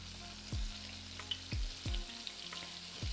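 Battered shrimp frying in hot oil, a steady bubbling sizzle broken by a few low thumps, heard up close with no voices.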